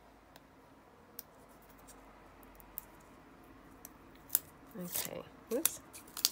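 Scissors snip through paper while fiddly butterfly shapes are cut out for ribbon streamers, faint scattered cuts at first, then a quicker close run of crisp snips and rustles toward the end, with a brief spoken remark.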